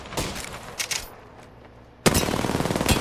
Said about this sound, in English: Opening fire. I'm taking shots.